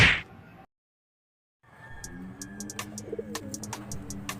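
Pigeons in a loft give soft, low cooing calls after a brief silence, with scattered sharp clicks and light shuffling nearby; moderately faint and free of talk.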